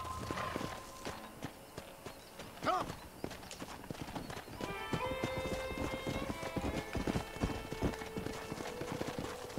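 Horse hooves clip-clop steadily in the Red Dead Redemption video game, a walking rhythm of close, distinct thuds with a brief whinny early on and game music tones joining midway, and no one speaking.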